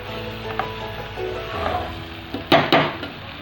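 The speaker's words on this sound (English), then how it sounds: "You add all the vegetables and mix it up thoroughly." Vegetables with chili powder are stirred in a pot for tomato kadi, with soft scraping, light clatter and two louder knocks of the utensil against the pot near the end.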